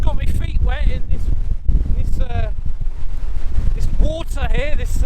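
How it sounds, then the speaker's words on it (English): Strong wind during Storm Dennis buffets the microphone on a beach by an estuary near Hayling Island, a loud rushing roar with gusty thumps beneath bursts of speech. "It's very windy here, right on the beach."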